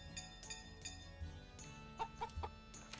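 Chickens cluck on a farm in Story of Seasons: Pioneers of Olive Town, a series of short repeated clucks interspersed with soft game chimes and clinks over quiet background music.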